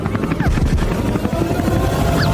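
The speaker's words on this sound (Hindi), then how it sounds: "अबे जल्दी कूदो, ये हेलीकॉप्टर गिरने वाला है।" Cartoon helicopter about to crash, its rotor chopping steadily and loudly throughout with a faint whine sweeping over it.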